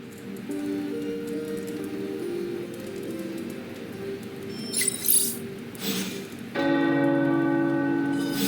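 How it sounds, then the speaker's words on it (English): Tower bells ringing in the video game Marvel Midnight Suns, sustained resonant tolls with a low hum, a brief bright chime burst midway, then a louder fresh strike near the end. "The tower bells are ringing"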